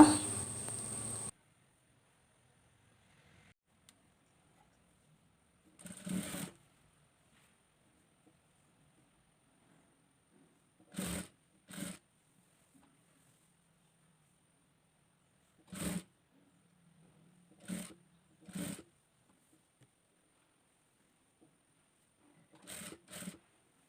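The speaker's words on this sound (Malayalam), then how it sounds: "ഉള്ളിലേക്ക് മടക്കി കൊടുത്ത് കറക്റ്റായിട്ട് വെച്ച് നമ്മളത് സ്റ്റിച്ച് ചെയ്തെടുക്കുക" Sewing machine stitching the folded hem of a frock nighty, running in short separate bursts with a longer run at the start and quiet pauses between stitches.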